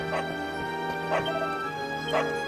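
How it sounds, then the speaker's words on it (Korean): A dog in the role-playing game Dragon Quest 11 barks three times at an even pace, short and fairly faint over steady background music. "어디서 개 짖는 소리가"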